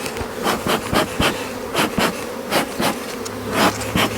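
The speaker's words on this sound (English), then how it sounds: "We'll let whatever bees can fly, we'll let them fly back out" Honeybees buzzing as they fly out of an opened hive during a mite wash, close and loud, with the drone swelling and fading in quick repeated bursts as individual bees pass near.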